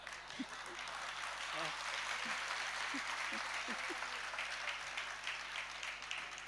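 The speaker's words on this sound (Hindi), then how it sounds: "अब ये तालियां काय के लिए बजा रहे?" Seated listeners at a Jain religious discourse clap together, a broad, moderately faint clatter of many hands running throughout, with a few low vocal murmurs or tones rising briefly within it.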